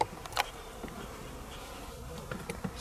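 Honey bees buzzing around an open hive, a dense steady drone with a few brief louder passes of individual bees close by, no voices.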